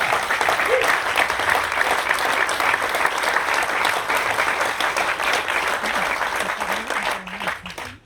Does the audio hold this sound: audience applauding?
yes